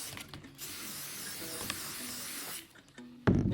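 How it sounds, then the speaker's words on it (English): A steady hiss of aerosol matte white spray paint sprayed onto a paintbrush runs for about two and a half seconds, then stops, followed by a few soft handling clicks and a louder thump. "spray your matte white paint onto your paintbrush."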